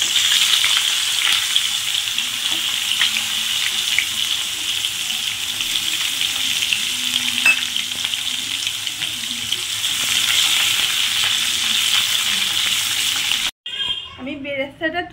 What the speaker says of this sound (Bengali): এবার এই তেলের মধ্যে আমি পেঁয়াজটা দিয়ে দিলাম, বেরেস্তা করার জন্য ভেজে নিচ্ছি।